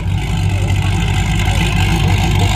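Cadillac drag car at a drag strip event, engine running loud and steady with the exhaust cutouts open, a deep continuous rumble filling the whole moment.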